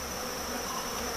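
Honey bees buzzing in an open hive box with brood frames, a steady close drone of many wings that holds at an even moderate level, with no talking.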